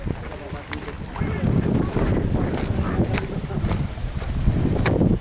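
Strong wind roars across a microphone high in the Andes near hot springs, a loud, steady, buffeting rumble with gusts throughout, while voices talk partly beneath it.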